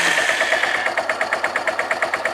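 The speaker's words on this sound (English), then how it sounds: "This will be a cold start." A Kawasaki Bayou ATV engine turns over and fires on a cold start, settling into a loud, close, rapid steady thumping of single-cylinder pulses.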